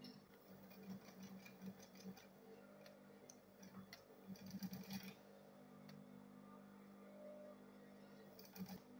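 A sewing machine stitches fabric for a handbag, its quiet rapid clatter coming in short runs and pauses, close and fairly soft, with light ticking between bursts.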